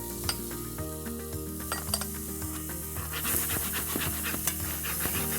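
Onions and garlic cook in a pan for a sweet potato hash, a steady close sizzle mixed with utensil clatter and a low tonal hum underneath, with no talk over it.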